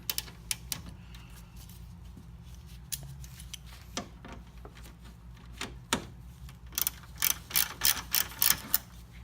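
Ratchet working loose the two 5mm hex bolts that hold the grille on a 2006-2008 Honda Civic Si, a run of quick clicking bursts, sparse at first and then denser and louder toward the end, with no talking.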